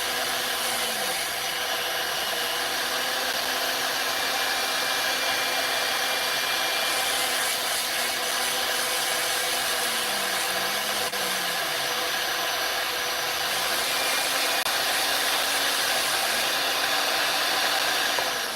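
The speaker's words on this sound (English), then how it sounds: "This right here is a Dremel, what you call it? Make pretend Dremel." A Harbor Freight Dremel-style rotary tool runs at a coin-ring workbench, giving a steady, close, high whine whose pitch dips and rises as the speed shifts. It runs unbroken for the whole stretch, with no talking.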